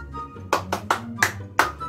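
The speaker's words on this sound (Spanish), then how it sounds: "Yo con un aplausito final" A small group gives a short final round of applause, five distinct loud hand claps in a quick, slightly uneven rhythm heard close up.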